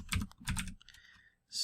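Quick keystrokes tap on a computer keyboard as a new password is entered: a short burst of close, crisp clicks, then a pause and one final press.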